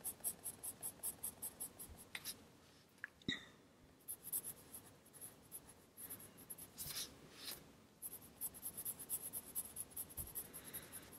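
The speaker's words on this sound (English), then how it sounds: "Just very lightly touching the pencil to the paper." Pencil lightly sketching a portrait on paper, a soft, quiet scratchy scraping in short repeated strokes, faint and close with a few louder rubs and brief pauses.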